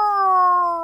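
A single drawn-out meow-like wail, held steadily for about a second with a slight downward slide, loud and close; a human voice imitates a cat meowing, with no other sound.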